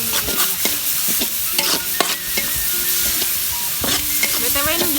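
Spice paste stir-fried in a pan for a sautéed salted fish, tempeh and eggplant dish, loud close sizzling punctuated by frequent spatula scrapes and knocks against the pan, no talking.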